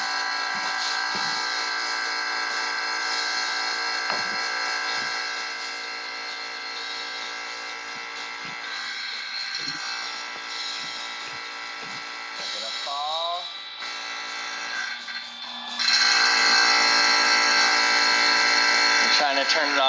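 A vacuum pump drones steadily as it evacuates a chamber holding helium balloons, a loud buzzing whine that shifts in pitch partway through and then grows louder, with people talking over it at times.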